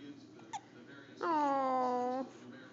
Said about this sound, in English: Oh, baby hiccups.